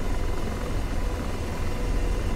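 Helicopter flying in the DCS World flight simulator, a continuous loud low rotor and engine drone with steady throbbing, alone without talk.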